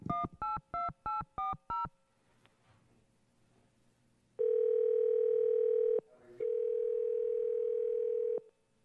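A telephone keypad dials six quick evenly spaced tones, a short pause with faint line noise follows, then a loud steady ringback tone sounds twice, in a city council meeting calling a participant back.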